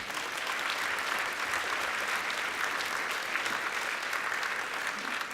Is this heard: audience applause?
yes